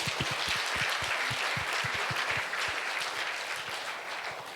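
A church congregation claps to give glory to God, a dense wash of hand claps with some sharp individual strikes, steady and fairly loud, fading slightly at the end.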